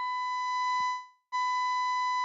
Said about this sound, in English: you got a beeping sound, Asif.